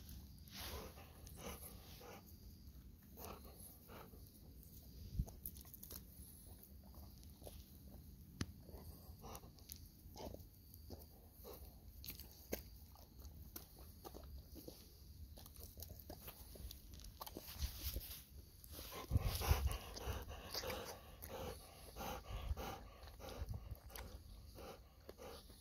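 A golden retriever eats and chews food indoors, with soft wet chomps, crunches and snorting breaths scattered quietly throughout, a short louder flurry of chewing near the end.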